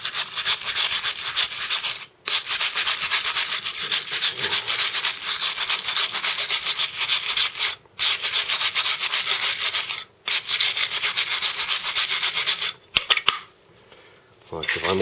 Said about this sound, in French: Donc un petit coup de brosse métallique dedans.